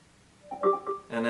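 A Harman Kardon Onyx 4 Bluetooth speaker plays its pairing chime while searching for nearby devices: a short run of bright, tonal electronic notes rising in steps, with the last note fuller and louder, heard clearly and alone over faint background hiss.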